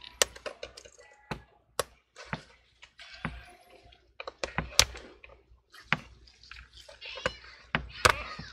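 Rubber covering peeled off the underside of an HP Chromebook during a battery replacement, giving a series of sharp, close crackling and tearing snaps spread irregularly across the clip, with quieter rustling between them.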